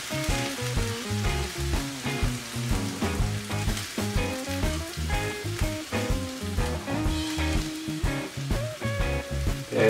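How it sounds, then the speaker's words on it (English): Black beans and potatoes sizzle and crackle in a hot pan in a toaster oven, a continuous busy frying noise with small pops, moderately loud and steady. "Boy, that's sizzling."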